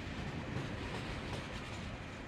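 A passenger train rolls along rails through the snowy mountains of northeast China, a steady loud rumble with a faint rhythmic clatter of the wheels and no speech.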